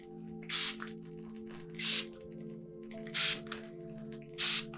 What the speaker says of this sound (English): Do a little bit more of a spritz here.